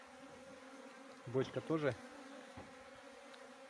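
Honey bees drone in a low, steady hum at a water feeder beside a barrel outdoors. Someone briefly speaks over the faint buzzing.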